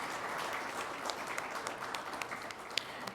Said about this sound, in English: So very big round of applause to all our colleagues across geographies and hierarchies also.